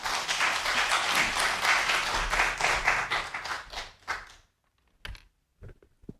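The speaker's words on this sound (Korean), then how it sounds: "우리 원로 목사님 나오실 때 우리 환영의 박수, 우리 감사의 박수로 함께 맞이하겠습니다." A church congregation claps to welcome its senior pastor to the pulpit, dense loud clapping for about four seconds that stops abruptly, followed by near silence with a few isolated taps and small noises.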